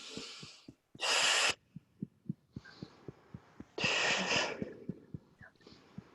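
Deep breathing during a guided healing session comes as two long, loud breaths, one in and one out, over a steady, soft rhythmic tapping on the chest.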